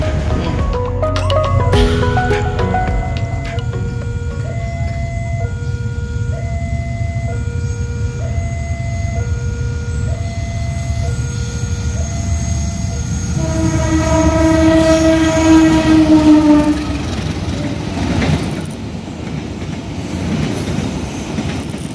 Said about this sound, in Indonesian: lagi akan ada kereta Senja Utama Jogja